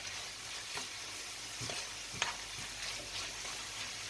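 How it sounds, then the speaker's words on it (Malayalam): Onions frying in a generous amount of oil, stirred now and then in an open pan, with a steady soft sizzle and a few brief scraping clicks of the spoon, no voices. "ഇങ്ങനെ ഇടയ്ക്കിടയ്ക്ക് ഇളക്കി കൊടുക്കാം"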